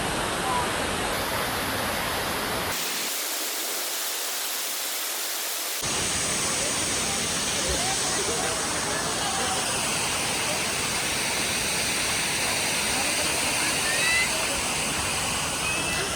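A waterfall at Tamhini Ghat roars in a dense, unbroken rush of falling water, loud and close throughout, with a brief muffled stretch near the start before the full roar returns.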